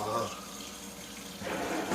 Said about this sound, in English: So let's turn this water off.